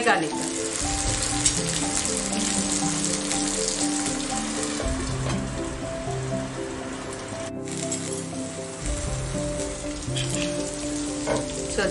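Colocasia (chamagadda) pieces fry in oil on a low flame, a dense steady sizzle and crackle that holds evenly throughout, close and continuous with no talking.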